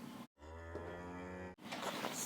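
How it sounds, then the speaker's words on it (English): A single cow moos once, a long steady low bellow of about a second, close and clear, sitting between other noisy sounds. "Squarehead likes cows."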